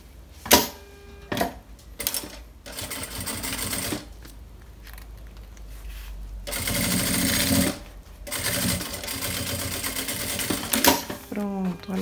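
Sewing machine stitching along the edge of a baby bag's lining at stitch length 4.5, whirring in several bursts of differing length separated by pauses, with clicks and handling noise between runs.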